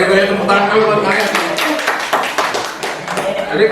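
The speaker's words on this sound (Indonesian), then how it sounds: "Dia tepuk tangan dulu buat kalian." A group clapping hands together during a classroom group guidance session, the claps dense and uneven with voices talking over them throughout.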